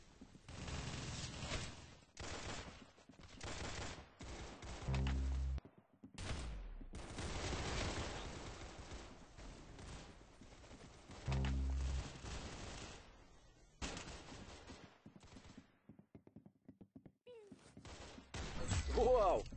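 Rapid bursts of gunfire in the Roblox shooter Arsenal come in repeated volleys with short gaps between them, loud and close, while voices talk over the action.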